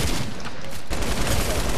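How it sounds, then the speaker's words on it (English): Rapid bursts of light machine gun fire from a Fortnite match, dense and loud throughout with a brief gap near the middle, heavy gunfire mixed with game noise. "this man is just using the light machine gun"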